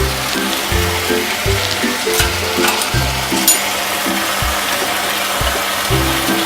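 Onions and spices fry hard over a high flame, a loud close crackling sizzle with repeated scraping strokes of a spoon against the pan in an uneven rhythm.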